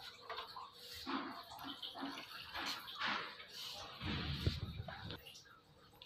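Water runs through a Livpure Touch Alkaline water purifier during servicing, a steady trickling and splashing flow with drips, heard close and fairly soft, with a heavier gush near the end.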